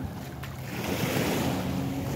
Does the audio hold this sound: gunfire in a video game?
no